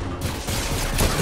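A short, loud burst of rapid blaster-style gunfire in a Star Wars video game fills just over a second, with continuous dense shots and no talk.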